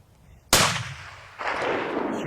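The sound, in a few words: rifle gunshot during elk hunt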